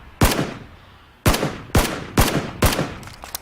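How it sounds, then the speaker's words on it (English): Sharp, loud gunshots crack out in PlayerUnknown's Battlegrounds, a single shot first, then four more spaced about half a second apart and a couple of fainter pops at the end. "I take shots at him, give away my position"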